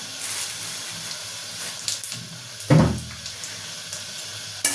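A bay leaf dropped into hot oil with a pinch of cumin seeds for tempering a Bengali prawn and pointed gourd dish, giving a steady hiss with a sharper crackling burst midway.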